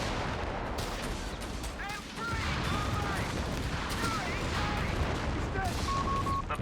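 Grenade launchers fire in Company of Heroes 3 at a squad holed up inside a building, a dense, continuous barrage of thumping blasts and crackling gunfire filling the battlefield without pause.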